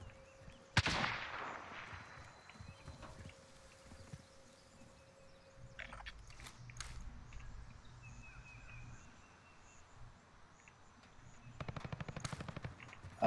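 Gunfire in the Warzone battle royale video game: a sharp loud shot early on, then scattered quieter shots and a burst of rapid fire near the end, with no talk.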